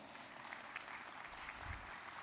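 A convention audience applauds, a fairly quiet, even spatter of many hands clapping for about two seconds.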